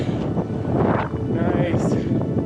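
Wind buffets a microphone on a mountain summit ridge, a loud, gusty rumble and rushing roar that swells and eases, with a person talking and breathing through it.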